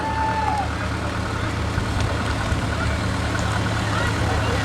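A 1918 tractor from the DY Garage rolls along in a small-town Montana centennial parade, a steady low engine drone throughout, with an announcer talking over it.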